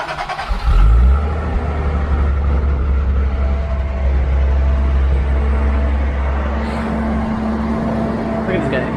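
The inline six of a 1983 Datsun 280ZX catches and revs loudly up close, then settles into a deep, steady idle, with voices in the background.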